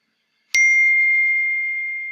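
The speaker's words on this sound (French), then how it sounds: "Ça là, c'est mon téléphone." A single bright phone notification ding sounds alone after half a second of silence, close and clear, then rings out with a long, slowly fading tone.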